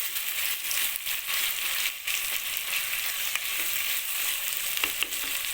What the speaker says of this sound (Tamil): வெங்காயம் வதங்கிட்டு பாருங்க